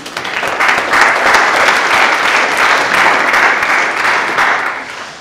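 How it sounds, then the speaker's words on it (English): Dense, sustained audience applause for a machine learning presenter, loud and even throughout before tapering off at the end, with almost no talking. "So round of applause again to Sebastien."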